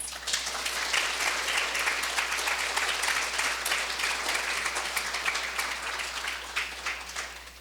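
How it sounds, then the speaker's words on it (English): An audience at a League of Women Voters forum on homelessness in Seattle and King County applauds the panelists, a steady dense wash of clapping that holds for several seconds. "I'd like to go ahead and give a round of applause for all of our panelists."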